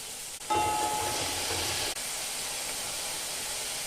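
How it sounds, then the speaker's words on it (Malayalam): Onions and green chillies sauté in hot oil, giving a dense, steady sizzling hiss that starts abruptly and carries on evenly, close and fairly loud, with no talking. "സവാളയും പച്ചമുളകും നന്നായി വഴറ്റിയെടുക്കട്ടെ"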